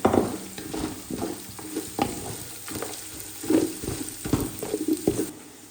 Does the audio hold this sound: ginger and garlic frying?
yes